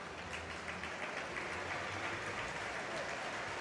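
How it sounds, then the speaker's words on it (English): A crowd at the 2023 World Championships fencing bout between Matsuyama Kyosuke and Nick Itkin applauds as the match resumes, a steady, distant wash of clapping that holds evenly throughout, faint in a large arena. "a very comforting round of applause from the crowd here, welcoming Matsuyama back"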